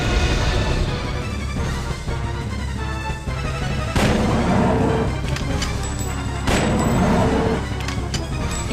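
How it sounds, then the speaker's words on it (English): Repeated booming shotgun blasts in the survival horror game Dino Crisis, aimed at a dinosaur, ring out over a dense, continuous game soundscape, with heavier hits landing around the middle and near the end. "I like to use the shotgun to make sure he flinches"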